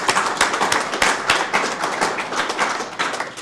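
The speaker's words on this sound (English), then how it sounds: "So will there be an interim applause?" Audience at an academic session on architectural heritage claps briefly, a modest scattering of hands with a few sharp, prominent individual claps standing out.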